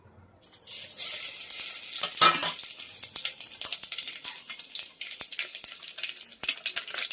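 Seeds sizzle and crackle in hot oil, a sharp burst of hissing followed by rapid scattered pops, close by with no talk.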